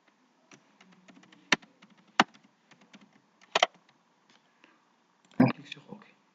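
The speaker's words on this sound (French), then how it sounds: "On entre notre password." Fingers tap a password into a computer keyboard: a quick, irregular run of light key clicks with a few sharper, louder presses, close by and with no talking.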